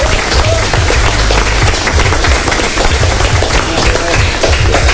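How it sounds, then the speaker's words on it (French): A studio audience at a French-language show gives dense, loud, sustained applause, with a low rumble under the continuous clapping. "des applaudissements pour ça"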